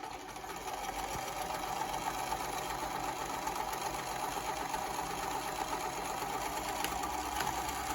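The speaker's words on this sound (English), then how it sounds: "I'm just using the trusty old sewing machine" A sewing machine stitches the seam of a fabric face mask, a steady close mechanical whir with a fast even rhythm that runs unbroken throughout.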